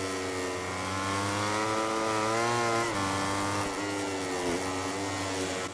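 A MotoGP motorcycle engine in the MotoGP 17 video game screams at sustained high revs, a loud buzzing whine that rises, dips briefly as the rider shifts gear, then climbs again, with no talking.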